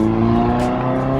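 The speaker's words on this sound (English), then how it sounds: "They got a Camry with an exhaust." Toyota Camry with an aftermarket exhaust driving by, a loud, continuous engine drone with a rough exhaust note that swells briefly midway.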